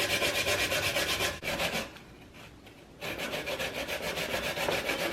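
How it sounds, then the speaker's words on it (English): A whole coconut is grated by hand on a grater for Jamaican rice and peas: close, rhythmic rasping strokes that pause briefly for about a second, then resume at the same brisk pace. "Grate a coconut to cook rice and peas."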